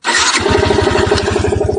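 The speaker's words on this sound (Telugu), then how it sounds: "సౌండ్ వినిపిస్తుంది కదా వెహికల్ ఆన్ చేశాను" A Yamaha motorcycle engine cranks and catches, then settles into a steady, close, loud rapid idle thump with no talking.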